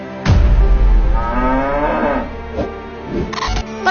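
A cow moos in a long, loud call lasting most of the time, followed by a couple of shorter, fainter lowing sounds, heard close with no talking.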